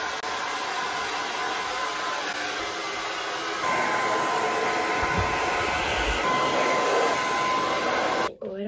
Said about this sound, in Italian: detto questo, mi asciugo i capelli.